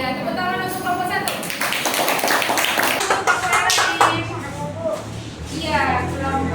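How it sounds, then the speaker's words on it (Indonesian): Schoolchildren in a classroom clap for a presenting group, a dense patter of many hands mixed with voices and chatter throughout. "Iya, tepuk tangan untuk kelompok satu"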